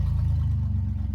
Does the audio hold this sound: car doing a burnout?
yes